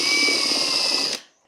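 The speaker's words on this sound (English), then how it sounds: "You can take your drill, and we're just going to drill out these 2 outer rivets." Power drill boring out the outer rivets on an Occidental leather toolbelt bag, a steady loud whirring grind for about a second before the motor cuts off and spins down.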